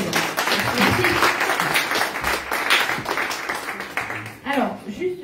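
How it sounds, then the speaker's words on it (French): Audience applause during a live mediumship show, a steady wash of clapping with voices mixed in, fading somewhat toward the end. "Allez, on l'applaudit bien fort"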